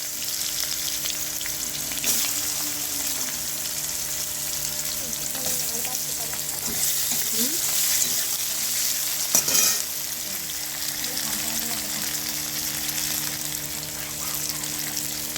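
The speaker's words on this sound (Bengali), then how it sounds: "পেঁয়াজটা কিন্তু লাল করে ভেজে নিতে হবে একটুখানি" Onions fry in a pan with bay leaf, the start of a chicken curry, giving a steady sizzle that runs on unbroken, with occasional scrapes and clinks as they are stirred.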